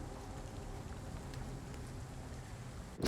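Steady rain in the video game Vampyr hisses evenly throughout, a dense wash of falling drops, ending in a sudden louder knock.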